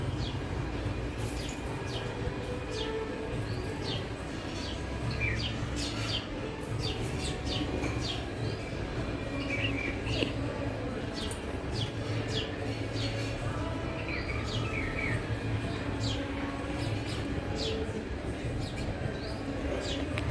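Small birds chirp in quick, scattered bursts over a steady low hum of background noise, continuing throughout at moderate distance.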